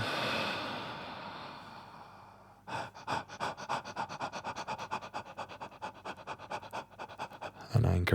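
A group of people breathe deeply during a breathwork session, first a long, slowly fading exhale, then a steady run of quick, rhythmic panting breaths that ends in a louder burst.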